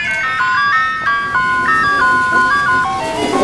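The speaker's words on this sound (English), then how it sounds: "It sounds like an ice cream truck." An ice cream truck plays its bright, chiming jingle melody, with the stepped notes of the tune ringing out clearly and loudly over a low background hum.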